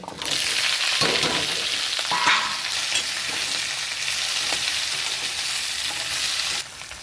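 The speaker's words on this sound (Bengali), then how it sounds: "এই গরম মশলা 5 ফোড়ন ভেজে নেব।" Garam masala and panch phoron spices frying in hot oil with bay leaf and dried chillies, a loud continuous sizzle with a few stirring scrapes, ending in a sudden drop in intensity near the end.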